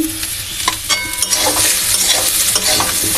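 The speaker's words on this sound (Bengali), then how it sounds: "নাড়াচাড়া করছি।" Salt and turmeric being stirred in a hot frying pan, with a steady sizzle and scraping spoon strokes throughout, close and fairly loud.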